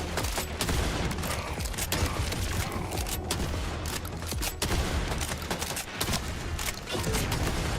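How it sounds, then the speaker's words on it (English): Rapid, loud shotgun blasts from the Doom shotgun in a video game, fired in quick succession with mechanical clacks between shots over a dense, noisy background. "This is the Doom shotgun."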